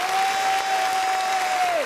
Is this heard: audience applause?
yes